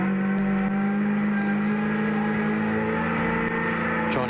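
Steady engine drone of Lowndes' 2001 V8 Supercar on track at Hidden Valley, a sustained tonal roar heard from the car with little change in pitch.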